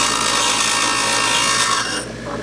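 A Vevor variable-speed bench grinder sharpens a steel drill bit, a loud continuous abrasive grinding hiss that drops off sharply near the end as the bit is pulled away.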